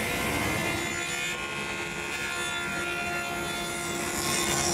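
A table saw runs steadily through plywood, making the first rabbet pass with the board standing on edge: a loud, continuous, close whine with a dense, even buzz throughout and no voices.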